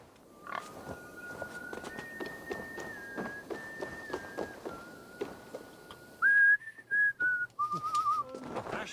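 Someone whistles a wandering tune during an Assassin's Creed Valhalla livestream, steady pure notes at first faint under game sounds and clicks, then louder, closer phrases near the end.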